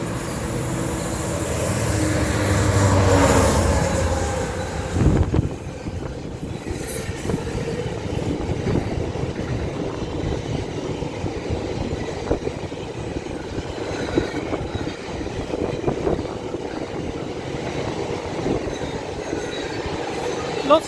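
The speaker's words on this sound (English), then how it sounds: "Diesel locomotive, it's class 66, I think." A Class 66 diesel locomotive hauling empty wagons passes through Shenfield Station in Essex, its rumble swelling loud before giving way to continuous clattering wheels and faint squeal as the train rolls by.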